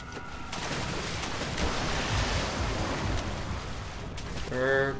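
Rushing water and surf-like roar in the horror game Amnesia, steady and loud, with a brief tonal creature-like sound near the end.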